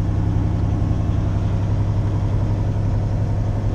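A truck engine idles with a steady low rumble and throb while backing up slowly in snow, close and continuous with no voices.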